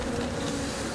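Honeybees from New Zealand wintering at a farm near Nanaimo on Vancouver Island make a dense, continuous buzz of a swarm, loud and close and without any voices.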